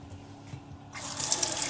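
Water spraying from a faucet nozzle attachment on a kitchen tap, starting abruptly partway in as a loud hissing spray after a quiet moment, close and continuing to the end.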